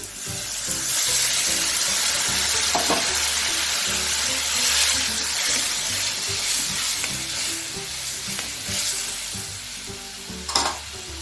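Tomato-puree water is poured into a pan of sizzling chickpea curry, setting off a loud, steady close-up sizzle and bubbling with occasional spoon clinks, and no talking throughout.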